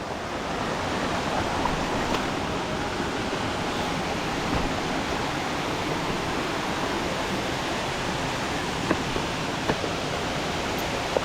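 Continuous broadband roar of water rushing down a cascade at Whisky Creek Falls, New South Wales, Australia, steady and dense throughout with no pauses, close and fairly loud.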